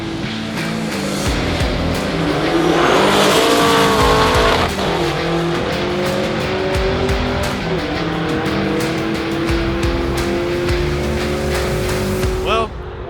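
Race cars, among them an old white Camaro, roll race side by side down a drag strip at a street car event, engines roaring loudly and rising through gears under an announcer's voice.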